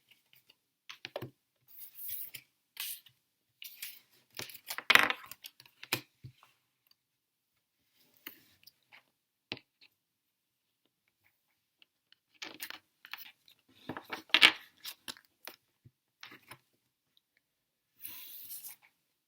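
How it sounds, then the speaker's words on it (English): Tarot cards are slid aside on a table, heard as sparse, soft clicks and light rustles in short bursts separated by quiet gaps, faint and close. "I'm just going to move these cards to the side."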